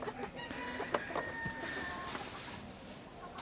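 Village chickens cluck and a rooster crows in a coop, a cluttered barnyard chorus, fairly close, with a low background rumble.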